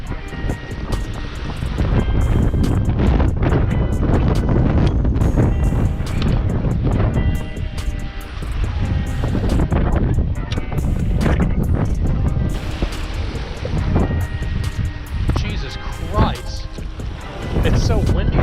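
Strong, steady wind buffeting the microphone at a fishing bank, a loud low roar that swells and eases throughout, with faint voices partly buried underneath.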